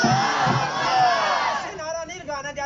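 A gathered crowd at a Mehfil-e-Milad school gathering shouts its response to the Nara-e-Takbir call, a loud massed cry that swells and then breaks into scattered voices fading out.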